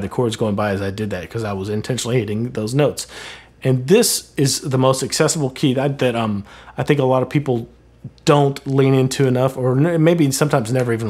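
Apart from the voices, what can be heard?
No everyday noise stands out behind the speech.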